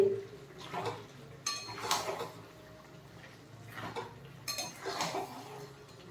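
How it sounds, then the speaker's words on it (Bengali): A cooking pot is opened and mutton curry is stirred in a pan, giving a few clinks and scrapes of utensil against metal in bursts, with soft bubbling between them, fairly close and with no one talking. "এবার ঢাকাটা খুলে আমি কষিয়ে নেব আর মাংসর থেকে তেল ছেড়ে দিয়েছে"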